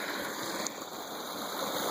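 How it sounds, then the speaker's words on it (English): Steady broadband rush of creek water flowing continuously, fairly close, with no voices. "another creek that comes down along and joins the primary creek right here"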